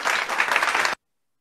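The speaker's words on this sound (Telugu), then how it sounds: "ఇప్పుడు లిల్లీ ఏమో జాయ్ కి క్లాప్స్ ఇస్తుంది జాయ్ ఏమో లిల్లీకి క్లాప్స్ ఇస్తాడు" Children at a Sunday-school club clap for each other, a brisk burst of close, lively clapping lasting about a second before cutting off abruptly into silence.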